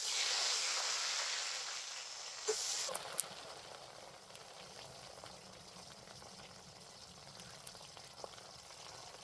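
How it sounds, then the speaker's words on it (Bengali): An egg dropped into hot oil in a pan for an egg curry with cauliflower and potato gives a loud, hissing sizzle at first. The sizzle soon settles into a quieter, steady frying crackle with occasional small pops. "তেলটা গরম হয়েছে, ডিমটা দিয়ে দিই।"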